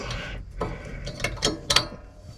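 A ratchet wrench clicks in short bursts on a Case IH 75C tractor during maintenance, several close metallic ratcheting strokes over a low engine idle.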